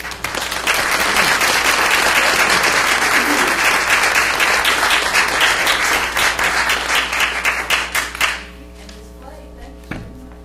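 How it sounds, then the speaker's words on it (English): Audience applause at a school district board meeting, a loud sustained round of clapping from a crowd that fills the room for about eight seconds, then fades to a few scattered claps and quiet room tone. "We'd like to give them a nice round of applause."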